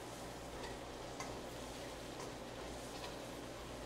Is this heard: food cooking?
yes